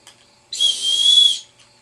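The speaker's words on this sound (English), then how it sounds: "a signal whistle." A single loud, shrill blast from a signal whistle held for about a second, close and piercing, with silence before and after.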